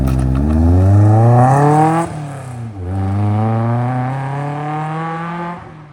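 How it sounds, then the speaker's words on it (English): A Caterham Super Sport with individual throttle bodies pulls away, its engine revving up in loud harmonic sweeps, dipping briefly on a gear change, then climbing again as it draws off into the distance. "we got a Caterham rolling out"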